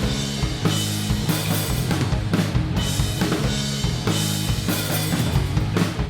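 Full drum kit plays a groove with accented snare hits in a repeating pattern over steady kick and cymbals, loud and continuous from start to finish.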